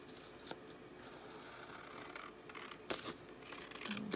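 Scissors snip through a sheet of paper to trim away its border, giving a few faint, close crisp cuts and rustles in otherwise quiet surroundings.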